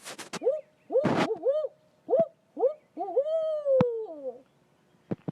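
A person imitates a barred owl's hooting call, a series of rising and falling hoots ending in a longer drawn-out descending hoot, with pauses between.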